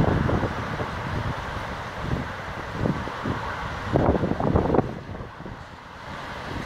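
Steady wind gusting outdoors near the Las Vegas Wash after heavy thunderstorms, a constant broad rush with a few stronger buffets against the microphone and faint background rumble.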